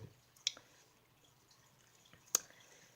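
Two faint, sharp water drips fall about two seconds apart in a quiet room during drip acclimation of an Amazon puffer fish.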